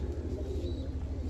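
Pigeons cooing softly at a bird keeper's loft in Khachmaz, a low, steady pulsing coo repeating under faint background hum, no speech.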